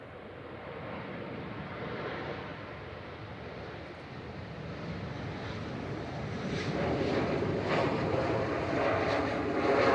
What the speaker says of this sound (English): Helvetic coming in from Zurich here, Embraer E190